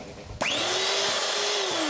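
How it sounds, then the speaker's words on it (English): Cake mixer motor starting with high torque on a DC supply from a capacitor bank, a sharp switch-on followed by a rising whine that settles into a steady loud hum. "Makes it a high torque start cake mixer."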